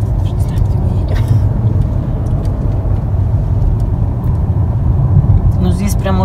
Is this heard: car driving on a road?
yes